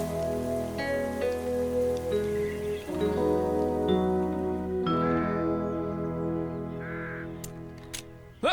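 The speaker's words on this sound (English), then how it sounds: "Oh, it's starting to rain." Rain begins falling in a Bob the Builder cartoon yard scene, a steady patter of drops under a sustained musical backing, with a few bright dings and birdlike calls scattered through.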